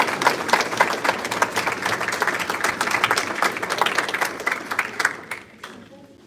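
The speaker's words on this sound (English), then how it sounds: "Let's give them another round of applause." Sustained audience applause at a board meeting, dense steady clapping for about five seconds that then tapers off and fades out.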